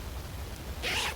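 The zipper on a RedTail hammock's bug net is drawn in one short, bright rasp near the end, after a quiet stretch of faint outdoor background.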